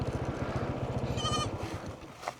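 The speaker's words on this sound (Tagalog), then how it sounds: "Ayan yung kambing." Goats, including young kids, bleating around a water basin, several wavering bleats in quick succession close by, followed by a short faint call.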